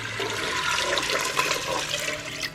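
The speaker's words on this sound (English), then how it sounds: "I'm going to add 6 cups of water" Six cups of water pour into a pressure cooker in a steady, rushing splash that stays continuous and close throughout, with no voices.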